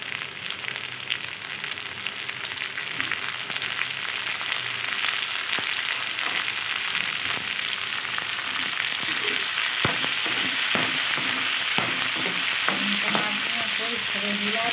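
Tomatoes hit a hot pan and fry with a steady, close sizzle while being stirred, as part of a spring onion greens and soybean vegetable dish. Scattered sharper pops and scrapes sit over the continuous hiss, with no talking.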